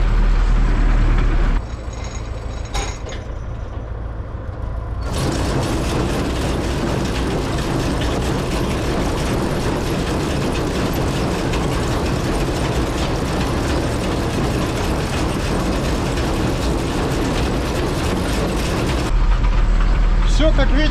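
A tractor with its PTO engaged drives a PR-150M round baler through a hay field, giving a steady, loud mechanical clatter and rattling drone that runs continuously after a brief quieter start.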